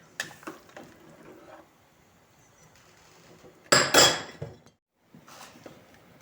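Chopped vegetable pieces tipped into a pot of potatoes for sorrel borscht: a quiet kitchen, a few light taps, then a sharp clattering burst of pieces and metal lasting about half a second, and silence again.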